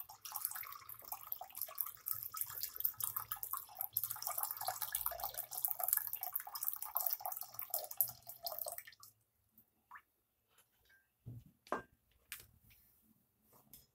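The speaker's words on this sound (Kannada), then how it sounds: "ಈಗ 1/2 ಲೀಟ್ರು ನೀರು ಹಾಕ್ಕೊತ ಇದ್ದೀನಿ ನಾನು." Half a litre of water pours steadily into a cooking pot on a kitchen stove while tomato bele sambar is prepared, a continuous splashing stream that stops partway, followed by a few scattered clinks and taps.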